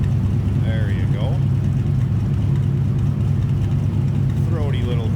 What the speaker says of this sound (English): Throaty little growl coming out of that small block.